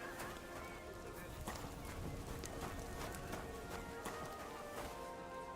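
Horse hooves clip-clopping in Kingdom Come Deliverance 2, a steady rhythmic series of sharp hoof strikes at moderate distance over a constant ambient bed.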